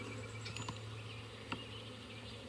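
Honey bees hum softly around an opened beehive during a split of a swarmed colony, a faint steady buzz with a few brief nearer passes.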